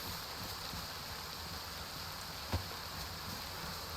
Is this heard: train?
no